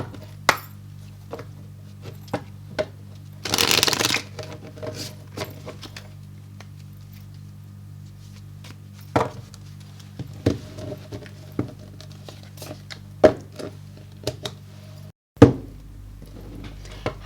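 Tarot cards being shuffled, with one quick dense riffle burst midway amid scattered light taps and knocks from handling the deck, close and fairly quiet in an otherwise still room.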